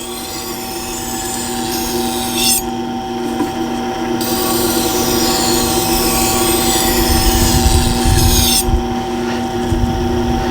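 A dull kitchen knife is drawn across the wheel of a Tormek T-2 Pro sharpener, giving a steady grinding hum with scraping passes and a couple of sharp abrasive bursts, close and loud.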